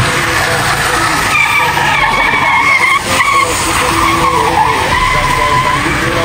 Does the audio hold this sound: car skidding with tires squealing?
yes